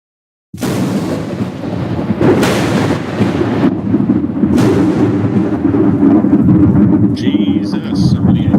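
Zeus Lightning weapon strike in a video game, loud booming cracks like thunder that hit three times and roll on into a continuous heavy rumble, with a brief burst of other noise near the end.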